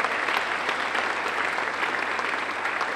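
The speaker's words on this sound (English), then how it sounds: "Can take a nice round of applause?" A steady round of audience applause at an evening community talk, sustained and even throughout at moderate loudness, with many hands clapping together in a continuous wash.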